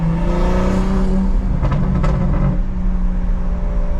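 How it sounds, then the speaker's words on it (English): A BMW M340i engine with a downpipe and aftermarket exhaust, untuned, rumbles and revs steadily with a deep, throaty exhaust note and faint crackling pops, close by and continuous. "this car sounds so good with just a downpipe and an exhaust"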